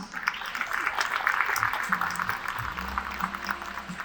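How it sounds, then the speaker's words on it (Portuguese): An audience at a business presentation claps for a speaker, a soft, continuous patter of many hands heard from a distance, with a low hum beneath. "palmas para Carlos"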